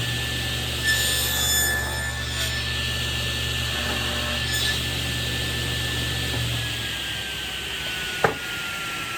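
Saw cutting kerfs into a hardwood board, a steady whining cut with a sustained tone that drops in pitch near the end, followed by a sharp knock as the cut finishes.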